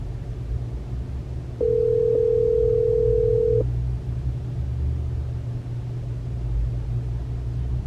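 A steady electronic phone tone sounds for about two seconds over the low rumble of a Tesla car interior, with no talking.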